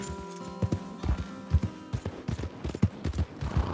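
In Red Dead Redemption 2, a horse's hooves beat out a brisk, even clip-clop close by, the rhythmic thuds continuing without pause for a few seconds.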